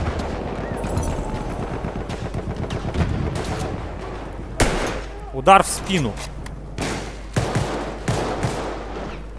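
Gunfire in the first-person shooter Battlefield 1, with scattered shots and bursts over game ambience and a few louder blasts near the middle, while a player talks throughout.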